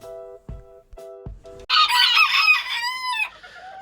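A few steady tonal beeps give way to a loud, nearby rooster crow that stretches out over the next couple of seconds.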